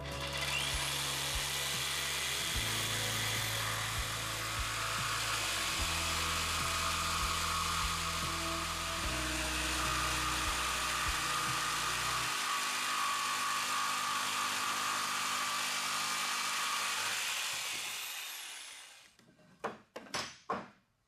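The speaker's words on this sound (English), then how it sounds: "use a jigsaw to cut out the curve" A jigsaw cuts a curve through a clamped wooden 2x4 board on a sawhorse, a loud steady buzzing rasp running for about eighteen seconds before the blade stops, followed by a few clattering knocks.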